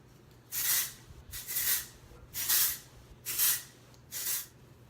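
Five short aerosol sprays hiss in a steady rhythm, each a quick burst with a brief pause between, close by and fairly loud.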